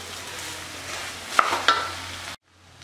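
A spoon stirs cooked rice in a pan while making mango rice, with two quick scrapes close by over a faint sizzle in a quiet kitchen, before the sound cuts off.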